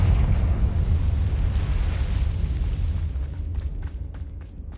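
A Confringo blast spell goes off in Hogwarts Legacy, a loud rumbling explosion with a deep boom that slowly fades over a few seconds.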